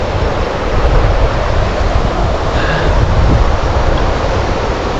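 Steady, broadband rushing of the Dirang river flowing continuously in Arunachal Pradesh, loud and close, with no breaks or voices.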